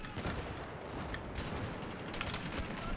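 Gunfire in the video game Battlefield 3 during close-quarters fighting, dense overlapping bursts of automatic shots and crackling reports that keep going throughout, loud and busy, with a brief cluster of sharper bright shots near the end.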